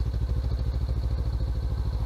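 A motorcycle engine runs with a steady low throb close by, the throttle eased open just slightly during a beginner riding lesson, producing an even, rhythmic pulse with no talking.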